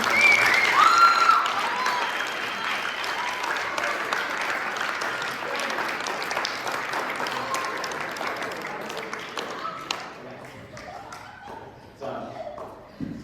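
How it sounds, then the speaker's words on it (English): At a school football awards night, the crowd applauds the football team in a long, moderately loud round of clapping that gradually thins, with a few whoops and voices mixed in before it dies down. "please give a round of applause to the football team"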